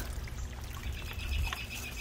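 Steady trickling and splashing of water in a backyard rock fountain, close by and continuous with no voices.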